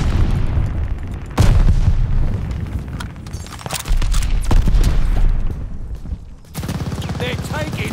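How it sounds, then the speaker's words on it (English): A glide bomb in Call of Duty: Vanguard multiplayer detonates in heavy booming blasts amid rattling gunfire, with several loud explosive surges separated by short quieter gaps. "Enemy glide bomb incoming."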